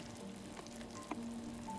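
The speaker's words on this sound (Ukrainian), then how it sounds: "І після закипання проварюю 40 хвилин на невеликому вогні." Gentle low bubbling and faint sizzling of dandelion syrup simmering in a pot on low heat, steady and quiet, with a couple of soft clicks.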